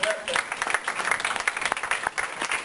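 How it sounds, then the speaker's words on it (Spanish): A church congregation applauding during a Sunday service, a burst of scattered clapping at moderate distance, somewhat uneven and fading in places. "Denle un aplauso al Señor."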